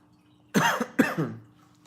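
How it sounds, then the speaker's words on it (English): Two sharp coughs close to the microphone, the second trailing off into a rougher, throaty rasp, with quiet background otherwise, out on a lake. "Just talking in general makes me cough a little bit"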